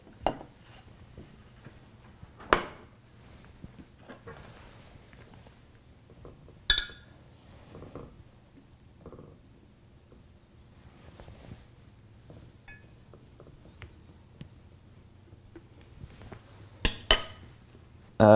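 Steeped kombucha tea bags are lifted from the brew and set in a bowl, giving sparse faint clinks and a few sharp knocks of dishware against a quiet background.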